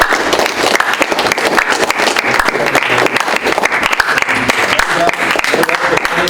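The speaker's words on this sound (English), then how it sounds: "I want to give our team one more round of applause." A meeting audience gives the team a round of applause, loud dense clapping that holds steady and close for the whole stretch without letting up.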